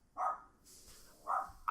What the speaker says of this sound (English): I'm gonna yell at this dog.